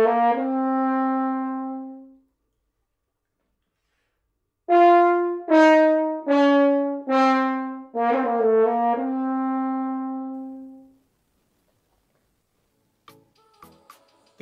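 Solo horn playing grace-note figures from the Franz Strauss Nocturno: a held note, a pause, then a cluster of quick ornamented notes leading into a long sustained tone, clear and close in a quiet room.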